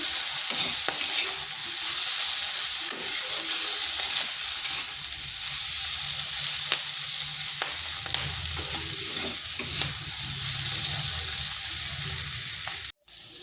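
Chopped onion stalks (peyajkoli) fry in a pan over low heat, a steady soft sizzle running throughout with occasional stirring scrapes, close and continuous with no talking.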